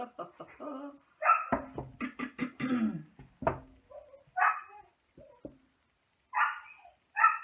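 A puppy barks close by in short, sharp bursts with yips and small whimpers, the barks scattered irregularly with pauses between them.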